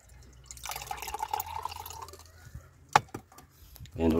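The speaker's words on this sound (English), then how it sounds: "just add cold distilled water" Cold distilled water poured onto silver chloride during a silver-recovery wash, giving soft dripping and trickling splashes with a sharp knock near the end, fairly close and moderately quiet, with no one speaking.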